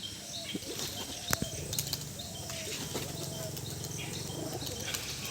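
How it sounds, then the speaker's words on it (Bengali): Two young pigeons are released outdoors, their wing flaps coming as faint, scattered flutters against a quiet background of chirping birds and insects. "এই যে দুটো পায়রা ছেড়ে দেওয়া হয়েছে শুধুমাত্র দুটো বাচ্চাই ছেড়ে দেওয়া হয়েছে"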